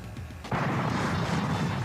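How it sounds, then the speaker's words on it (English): Cannon on a Bally Black Rose pinball machine fires, a sudden loud booming blast followed by a sustained rumbling roar with no speech. "Black Rose features a cannon under the playfield. It's fired with the red button on the lockdown."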